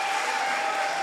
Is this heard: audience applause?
yes